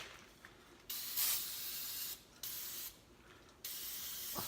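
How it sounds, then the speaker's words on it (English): Brake cleaner sprayed onto corroded car battery terminals on a Honda Accord, heard as several close, loud aerosol hissing bursts with short pauses between them and no talking. "what I'm going to do is take some brake cleaner"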